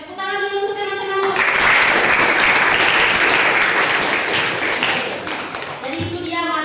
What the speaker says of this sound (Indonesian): Tepuk tangan dulu untuk teman-temanmu.